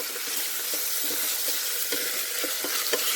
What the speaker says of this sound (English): So now I'm sauteing the carrots,